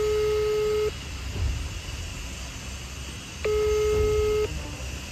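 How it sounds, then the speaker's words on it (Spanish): A telephone dials out with two long electronic tones, each about a second, steady and fairly loud over a low background rumble, separated by a few seconds of quiet. "Voy a llamar otra vez a ver."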